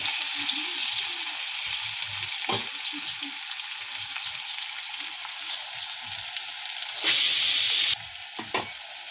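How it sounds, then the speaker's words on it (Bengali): Loud, continuous sizzling of chopped onions frying in a pan, with occasional scraping stirs and a brief burst of stronger hissing near the end. "কুচিগুলো একটু ভালো করে ভেজে নেব"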